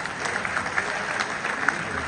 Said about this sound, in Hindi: एक बार तालियां बजाइए सर।